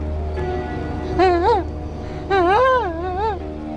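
A voice makes two rising, wavering whines that imitate a dog crying, with quiet background noise between them.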